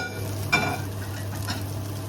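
Soft frying sizzle with a brief stir at the start and again near the end as poha rice, cooked like Filipino fried rice, is reheated in a pan. Steady, quiet and close, with no talk over it.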